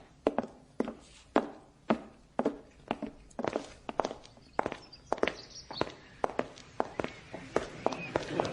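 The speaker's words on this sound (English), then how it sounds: "Those footsteps you heard, they were ours, crossing into the back alley." Footsteps walking into a back alley, a steady series of distinct hard taps on a firm surface, evenly paced and fairly close, heard alone without talk.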